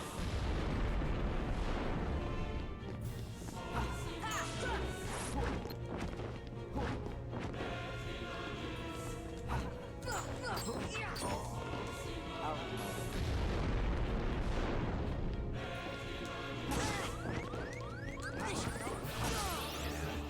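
A fire pillar attack in Kingdom Hearts erupts through dense battle action, with repeated booming bursts, whooshes and crashes layered over game music for about twenty seconds.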